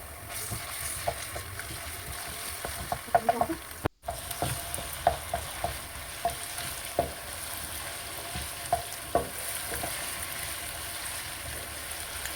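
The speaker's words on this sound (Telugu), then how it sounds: "అల్లం వెల్లుల్లి పేస్ట్ కూడా బాగా వేగే వరకు కలుపుకోవాలండి" Ginger garlic paste frying with liver in a pan, a steady loud sizzle with scattered scraping stir strokes from a spoon, close up and without talk.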